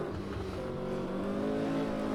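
Historic Formula 1 car engine in a racing video game at Hockenheim, a loud, continuous high-pitched drone that rises steadily as it accelerates along a fast lap, with no talk over it.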